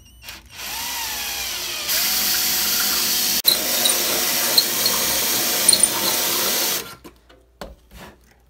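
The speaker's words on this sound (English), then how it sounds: "I'm gonna drill this one down" A power drill whirs continuously for several seconds while drilling a Technics turntable dust cover hinge bracket, rising to a higher steady pitch, then stops, followed by a few faint clicks and handling noises.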